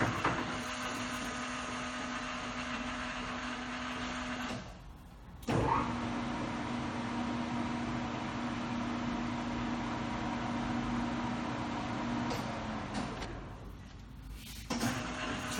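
A LeBlond 19-inch by 78-inch engine lathe runs at a set spindle speed with a steady, close mechanical hum. It winds down and restarts twice, and no one speaks.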